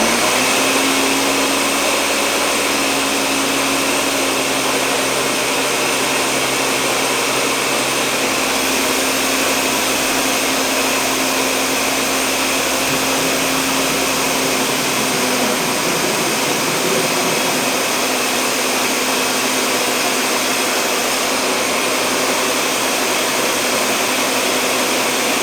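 A Walmart blender with a replacement turbine blade whirs through a green smoothie, a loud, continuous motor drone with a high whine that shifts pitch partway through as the contents blend down, running alone with no voices.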